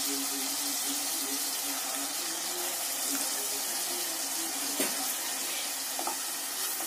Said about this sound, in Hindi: मसाले डालने के साथ साथ ही मैं इसमें थोड़ा सा पानी डालूंगी।